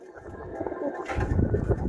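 Pigeons coo in a soft, low, throaty murmur that swells louder partway through a brief, close stretch.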